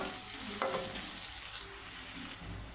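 Ginger garlic paste fries in hot oil for a chicken curry, a close, continuous crackling sizzle with faint stirring and no talking.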